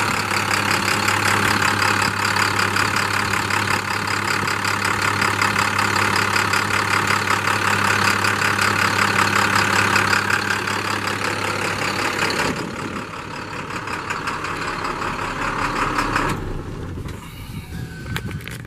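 A 2013 International DuraStar 4400 flatbed truck engine idles with a steady, even diesel rumble. It drops noticeably quieter partway through, then continues at a lower, rougher idle, with no talking.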